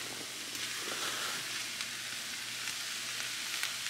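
Peppers fry in a shallow pan on a stovetop set to medium, a soft, even sizzle hissing steadily and close with faint occasional pops, no voices present.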